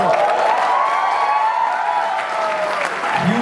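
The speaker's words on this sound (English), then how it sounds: "Huge round of applause." An audience at a musical evening with Bollywood singers breaks into loud, sustained applause. The clapping is mixed with whoops and cheering and holds steady for several seconds.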